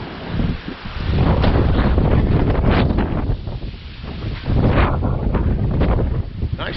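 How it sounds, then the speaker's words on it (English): Strong gusting wind buffets the microphone outdoors beside a 2007 Toyota Sequoia or Tundra being repaired, loud rumbling blasts rising and falling in waves, with someone speaking briefly amid the gusts. "it is very, very windy today"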